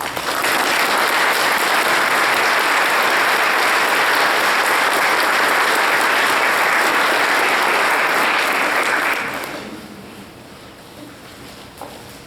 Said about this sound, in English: Join me in applauding the VAIL staff.